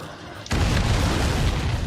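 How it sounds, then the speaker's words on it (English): A missile explosion hitting a supply ship in Ace Combat 7, a sudden loud blast that swells into a sustained roaring rumble filling the rest of the moment. "Missile hit the supply ship dead on."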